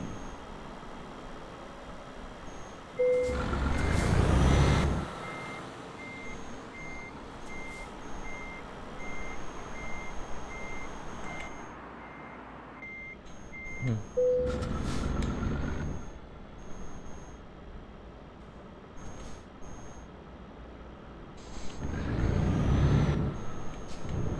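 A Benz truck reversing in Euro Truck Simulator 2, a steady spaced beeping tone that runs for long stretches over a low idling engine, broken by loud bursts of air-brake hiss.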